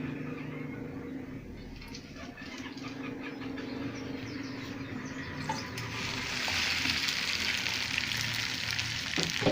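Eggs and Indomie noodles frying in oil in a pan, a steady crackling sizzle that grows louder and brighter partway through, with small clinks along the way.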